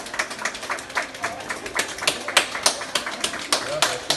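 Applause rising for a patient leaving hospital after more than a month of serious illness, close by and uneven, with sharp separate claps in an irregular rhythm.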